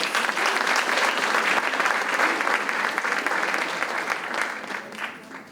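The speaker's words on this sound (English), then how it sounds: "Let's please give her another round of applause." Sustained applause from an audience at an Arangetram classical dance debut, a dense, continuous patter of many hands that holds strong before thinning out toward the end.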